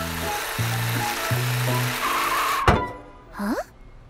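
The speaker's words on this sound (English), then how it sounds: "I can hear the bus." A cartoon bus drives along with a steady low engine hum that shifts pitch a few times, followed by a sharp thud and a rising whoosh-like zap near the end.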